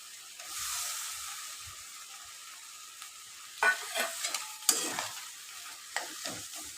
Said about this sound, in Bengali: এর মধ্যে থোড়টা যে সেদ্ধ করে রেখেছিলাম সেটা দিয়ে দিলাম।